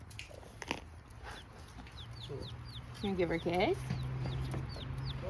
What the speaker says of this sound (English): It's not a ducky. Ducky. It's a chicken.